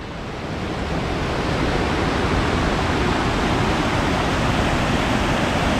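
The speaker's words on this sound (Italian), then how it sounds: "E tra poco raggiungo il fiume qua sotto." A river in the Val Grande valley rushes in a dense, steady roar of flowing water that fills the whole clip, loud and close with no voices.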